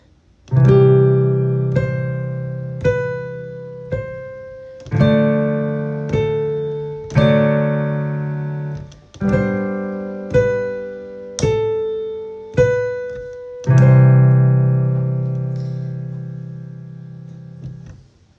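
Sustained piano-like chords struck every few seconds, each with a melody of shorter notes on top, played alone at a steady moderate pace.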